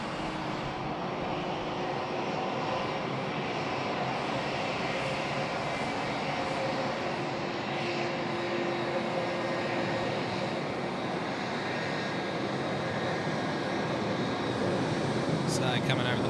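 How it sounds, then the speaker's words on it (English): A Boeing 717 from Hobart lands at Sydney, its jet engines giving a steady, moderate rumble throughout as it touches down, with people talking and radio chatter over it. "It's a Boeing 717. And she's down."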